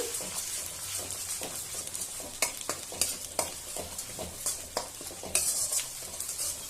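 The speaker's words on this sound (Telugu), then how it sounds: "ఇది బాగా వేగాలి, రెడ్ కలర్లో వచ్చే వరకు వేగాలి అల్లం వెల్లుల్లి పేస్ట్." Ginger garlic paste frying in oil in a pan on low heat for a pickle, a continuous close sizzle with repeated sharp scrapes and clinks of a spoon stirring, and no talking.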